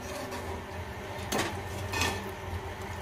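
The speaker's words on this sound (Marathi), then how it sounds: "जरा हलवून घेऊया." A spoon stirs a spicy wet gram curry with chopped coriander in a cooking pot, giving two brief scraping clinks over a steady low kitchen hum.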